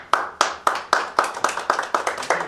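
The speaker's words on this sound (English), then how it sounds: "There's only four of us clapping." A small group of about four people clapping at a wedding vow renewal in a chapel, fairly quick, close and loud claps in a steady run with no talk.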